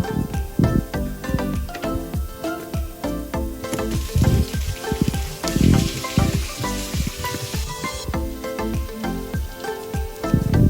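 Beef pieces fry in hot oil with deep-fried onions for beef haleem, giving a continuous close sizzle broken by clattering stirs, and the hiss swells louder for a few seconds midway.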